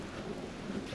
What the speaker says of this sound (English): I only take shelter a little bit from the rain.